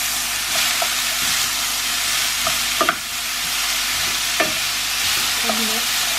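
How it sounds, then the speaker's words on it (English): Vegetables sizzle and fry in a pan while being stirred, with steady broadband hiss and intermittent scraping knocks of a utensil against the pan, close and fairly loud, with no talking. "let's get stirring"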